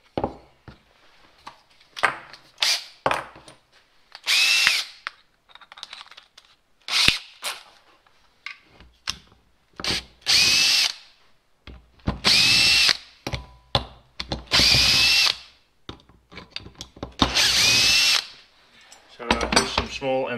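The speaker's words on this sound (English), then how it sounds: "I'm going to use some sandpaper to make it very nice." Sandpaper scrubs a custom-made metal oil cooler adapter for an M113 V8 turbo engine in short, loud, gritty bursts of about a second each, repeated in an uneven rhythm with brief pauses between strokes.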